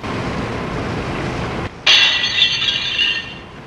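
Window glass shattering in a radio drama, a sudden bright crash cutting in over steady rain noise, followed by ringing, tinkling shards that fade over a second or so.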